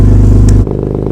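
An Alfa GTV 3.0 V6 with Wizard downpipes and a Cybox exhaust idles after its first start in 18 months, a loud, steady, throbbing engine drone up close that drops sharply in level partway through.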